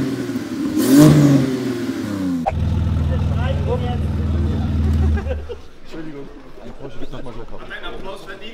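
A Porsche GT2 RS is revved during a soundcheck at the PP-Performance shop opening in Berlin: a sharp rising rev near the start, then a sustained loud engine drone that drops away, with people talking around it.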